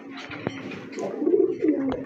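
Pigeons at a pigeon market stall, a mixed pair of quality breeds, give soft low cooing that rises and swells toward the end, close by, with faint background voices and bustle.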